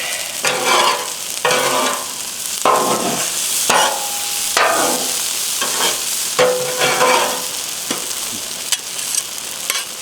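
Sauce being mixed into beef lo mein with cashews and peppers on a Blackstone griddle, a steady close sizzle broken by repeated scraping spatula strokes as the noodles are tossed, with no talking.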